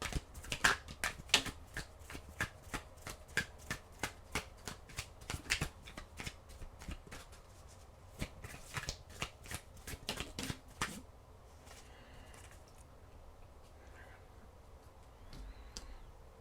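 Tarot cards being shuffled and drawn: crisp, rapid riffling clicks close by for about ten seconds, then a few softer, sparser card sounds without talk.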